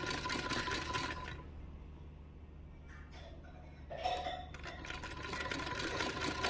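A sewing machine stitches a strip of piping onto a garment's back neckline, running in short bursts with pauses between, close and fairly steady, with no voices.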